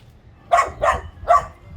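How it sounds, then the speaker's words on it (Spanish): An angry little dog barks three sharp times in quick succession from a short distance on a city street, with a faint low background rumble and no talk. "Hay un perrito enojado ahí"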